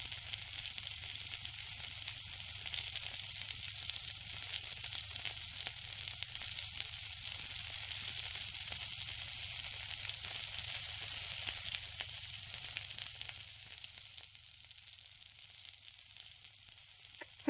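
Chicken sizzles and fries on a rooftop BBQ as sauce is added bit by bit, a steady close hiss that stays even throughout and eases slightly near the end.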